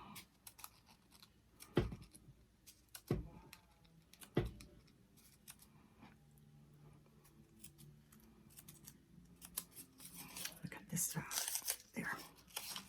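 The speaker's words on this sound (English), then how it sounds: "I'm going to cut these wonky ends off. And I'm going to give it just a snip like I did before." Scissors make sharp, separate snips in crepe paper while a paper zinnia is being shaped, several crisp cuts close by, followed by softer rustling and handling of the paper.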